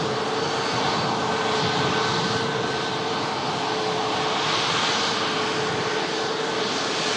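A Ryanair airliner vacating the runway produces a loud, steady jet engine roar with a faint tonal whine, continuous and fairly close, with no voices.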